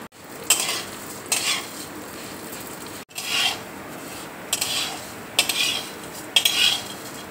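Vermicelli fries in melted ghee in a wok while a utensil scrapes and rasps against the metal in several distinct bursts, over a quiet sizzling background, with no talking.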